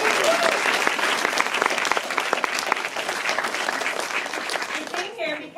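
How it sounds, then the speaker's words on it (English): An audience at the Shriekfest horror film festival awards claps steadily for Denise, a dense, sustained round of applause with scattered whoops that tapers off near the end. "One more round of applause for Denise"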